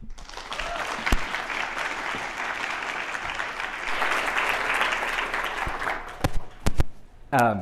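Audience applause welcoming a speaker at a university ecology and evolutionary biology seminar, a steady roomful of clapping for about six seconds, with a few sharp knocks and a voice starting to speak close by as it fades.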